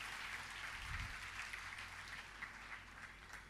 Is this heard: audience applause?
yes